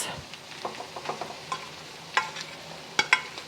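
Leftover cold rice stirred with bacon, onion and garlic in a frying pan, a spoon scraping and clacking in irregular strokes over a soft steady sizzle, close and alone.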